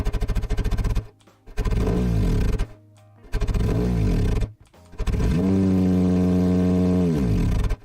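A simulated car engine built in the BeamNG.drive game revs hard in repeated bursts, cutting off sharply between them, then holds one long sustained rev; loud and close, with no talking.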